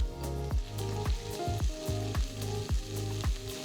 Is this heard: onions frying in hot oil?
yes